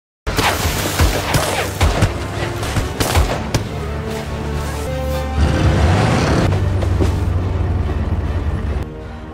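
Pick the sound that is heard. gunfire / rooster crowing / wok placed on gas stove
gunfire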